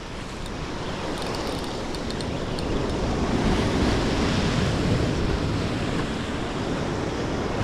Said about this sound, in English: keeping an eye on the waves here